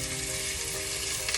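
Seasoned short ribs sear in olive oil in a scorching hot pan, giving a loud, steady, close sizzle and crackle that holds throughout with no talking.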